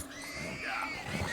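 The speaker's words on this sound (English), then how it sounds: "Oh, pigs." Pigs in the open-world western game Red Dead Redemption 2 grunt and squeal in a noisy, continuous muddle near a camp, with a steady wash of background ambience behind them.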